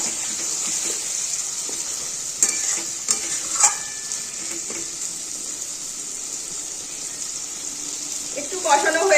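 Potatoes and pointed gourd fry with spices in a pan, a continuous bright sizzle under occasional scraping and clinking as they are stirred, with a louder clatter at the very end.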